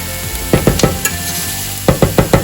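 Garlic frying in a pan while a utensil stirs it, making close scraping strokes in two quick bursts over a constant faint sizzle.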